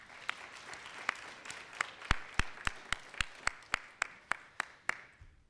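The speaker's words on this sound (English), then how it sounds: "So everyone in the middle should clap for your support network." Audience applause at a 2018 mathematics undergraduate graduation ceremony: loose scattered claps that build into a louder, steadier run of sharp individual hand claps, close and fairly regular, with no talking.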